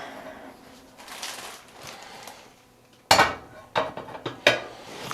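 Enchiladas set into a baking dish, soft muffled handling and shuffling at first, then several sharp clinks and clatters of dish and utensils close by, no talk.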